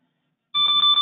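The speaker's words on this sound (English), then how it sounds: "so here's a pending alarm" A G7c safety monitoring device sounds its yellow pending alarm tone, a loud electronic beeping of steady pulsed tones that begins abruptly after a short silence and repeats in quick succession.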